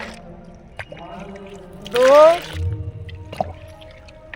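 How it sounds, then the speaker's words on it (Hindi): Glasses of water are poured into a tea mixture meant for feeding tomato, eggplant and chili plants, giving one brief splashing gush while someone talks and counts. "उसके लिए मैं 3 गिलास डाल रही हूँ"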